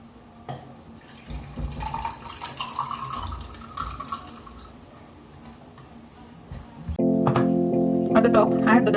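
Milk pours into a glass over ice cubes for Dalgona coffee, a soft continuous trickle and splash with faint clinks, before a louder steady tonal sound takes over near the end.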